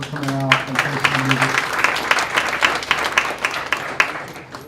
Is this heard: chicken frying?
no